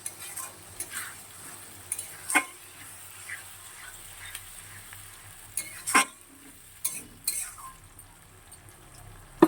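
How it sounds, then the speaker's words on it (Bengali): Ginger-garlic paste and cumin paste with a little water sizzle softly in a hot pan, joined by intermittent scraping and clinks of a spoon stirring, close and fairly quiet. "এবার আদা রসুনের পেস্ট আর জিরে বাটা দিয়ে দিলাম।"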